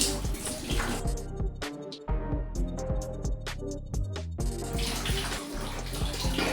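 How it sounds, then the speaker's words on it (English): Water rushes and splashes steadily as it drains from a toilet cistern during a DIY repair of a water closet flush valve, a continuous close gurgling flow with brief clatters, no talking. "The water is draining out now."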